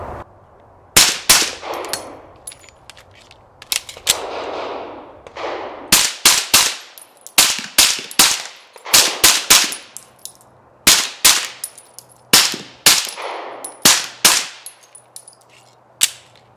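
A PSA Dagger pistol fires supersonic 124 grain FMJ ammunition, a long series of sharp, loud shots with metallic clangs, mostly in quick pairs and bursts with short pauses between.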